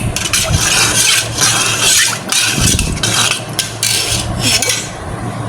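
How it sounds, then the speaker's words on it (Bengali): Bread-and-milk sweet being stirred in a pan on a gas stove, a spoon scraping and clinking against the metal in repeated sweeps over a steady burner hiss, close and fairly loud with no voices. "একটু নাড়ে নিব।"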